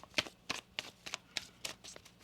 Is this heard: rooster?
no